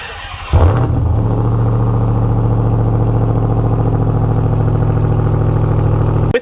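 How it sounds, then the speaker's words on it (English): Loud, steady Hellcat supercharged V8 exhaust note from a 2021 Ram 1500 TRX pickup, starting abruptly after a brief quiet moment and rumbling continuously at a deep idle with a raspy clatter, close and alone. "With an exhaust note like that"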